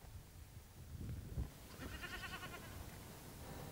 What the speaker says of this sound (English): There are a few goats on the hillside